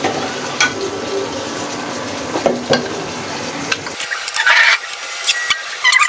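A fish head and tail boil in a pot, giving a steady bubbling hiss with scattered clinks and stirring scrapes. The sound thins abruptly partway through into lighter, sharper crackles.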